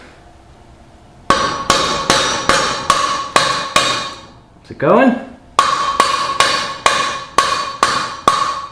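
A heavy hammer strikes a stuck motorcycle wheel bearing in steady, loud, ringing metallic blows about twice a second, with a brief spoken question during a short pause in the hammering.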